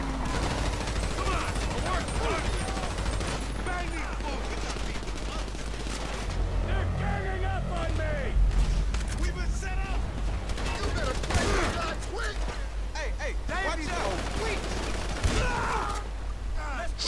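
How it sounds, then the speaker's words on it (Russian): Bursts of enemy gunfire in Grand Theft Auto V, rapid volleys and scattered single shots crackling across the whole stretch, some sharp and close, with mechanical clatter between bursts. "Черт, они крепко стреляют."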